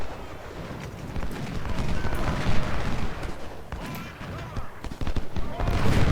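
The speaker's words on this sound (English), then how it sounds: "Enemy guns continue to target our skirmishers." Artillery and musket fire roll across an American Civil War battlefield in the game Ultimate General: Civil War, scattered volleys and booms crackling under a speaking voice.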